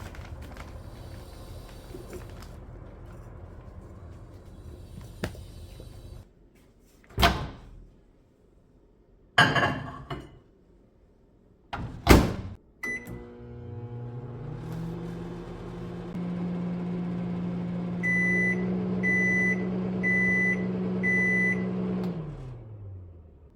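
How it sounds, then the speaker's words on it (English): Household microwave oven heating new potting soil: a few sharp clunks of the door and buttons, then a steady loud hum with a low drone that runs for several seconds, and a short series of beeps near the end. "So from now on, I'll be microwaving new potting soil every time I get some."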